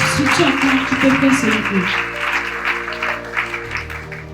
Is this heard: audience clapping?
yes